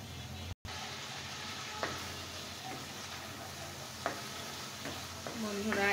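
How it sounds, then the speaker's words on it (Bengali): Spices sauté in a pan for a cabbage and hilsa pilaf, a faint, steady sizzling hiss with occasional soft stirring taps and a brief dropout early on. "আমি এখন খুব সুন্দর মতো এগুলোকে কষিয়ে নেব।"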